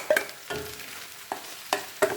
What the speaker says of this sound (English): And give a stir nicely. I'm going to put the onion,